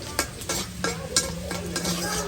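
Garlic fries in oil for a bagar tempering, with a continuous crackling sizzle and several quick utensil scrapes against the pan, close and moderately loud.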